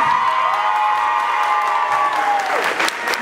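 Audience applause at an end-of-year dance show, a dense, steady clapping and crowd noise lasting throughout, with faint cheering and a tonal sound running under it.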